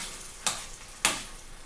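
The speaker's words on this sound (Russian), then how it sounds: "папоротник жарится, фритюрится до состояния румяной корочки" Bracken fern pieces deep-frying in hot oil to a golden crust give a steady, close hiss, broken by two sharp scraping clicks as the pan is stirred.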